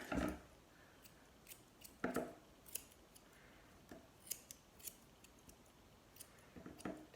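Scissors trimming a Golden Retriever's foot fur in short, crisp bursts, a handful of sharp cuts spaced irregularly across a quiet background, close to the listener.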